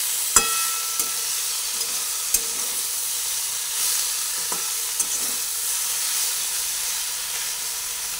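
Capsicum and eggplant pieces fry in a pan, producing an even, close hiss of sizzling oil with a few sharp clicks from utensils scattered through it.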